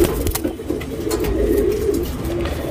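Tournament pigeons in Bangalore, India, coo in low, throaty, rolling calls, close and continuous, with a faint flutter or shuffle now and then.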